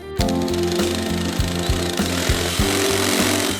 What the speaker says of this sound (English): I'm gonna start with a step bit to get the hole going